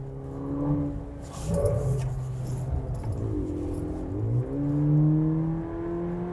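A Volkswagen Nivus GTS engine revs on the move, its steady drone climbing and falling as gears hold the revs high, loud and close throughout with a brief dip midway.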